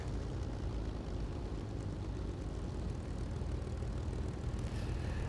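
Propeller aircraft engine in the War Thunder game, a steady dense drone that stays even throughout with no clear drop, close and alone.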